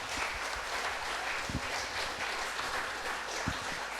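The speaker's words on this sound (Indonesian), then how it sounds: "Beri tepuk tangan meriah untuk adik-adik pemenang." Applause for young competition winners at a mosque's Syawalan Halal Bi Halal gathering in Sleman, Yogyakarta: a steady, moderately loud wash of clapping from a crowd, with a few sharper nearby claps standing out.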